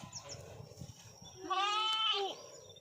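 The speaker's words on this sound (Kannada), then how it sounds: "ಮೇಕೆ ಪಪ್ಪುನೇ ಇದ್ದಾವೆ ಕುರಿ ಪಾಪುನೇ ಇದ್ದಾವೆ" A young goat gives one clear, wavering bleat after a quieter stretch of low rustling, close by and fairly loud, among goat kids and lambs.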